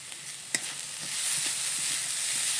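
Grated coconut and sugar stirred in a pan for coconut laddoos, a soft steady sizzle with a few scraping spoon knocks, close and alone without talk.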